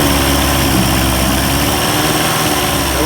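A 1990s 30 hp Evinrude outboard motor running in forward gear, a loud, steady, close-up engine drone that stays constant throughout.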